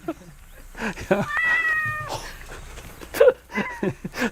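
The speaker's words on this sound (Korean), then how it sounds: "이 집 마당에서 태어난 새끼 고양이" Newborn kitten, about a month old, born in a farmhouse yard, gives a couple of high, thin meows up close, with a quieter squeak later, while people talk softly nearby.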